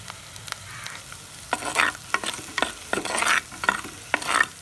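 Onions frying in oil in a pan for a masala vada pulusu, a soft background sizzle punctuated by repeated sharp stirring scrapes and crackling bursts at close range.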